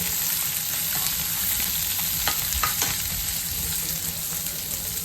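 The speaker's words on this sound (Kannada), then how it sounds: "ಲೈಟಾಗಿ ಫ್ರೈ ಮಾಡಿಕೊಂಡು ಆಗುತ್ತೆ" Ground masala paste frying lightly in a pan gives off a continuous close sizzle, with a few soft scrapes of stirring partway through and no speech.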